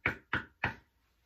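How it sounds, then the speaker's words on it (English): Three firm knocks on a house door, evenly spaced and close, standing alone with no talking. "went to the next house and knocked on the door"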